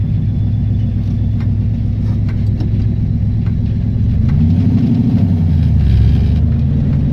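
A V8 car fitted with a lawn mower carburetor pulls away from a stop in traffic. Its loud, low engine rumble holds steady, then swells as it accelerates, with no talking.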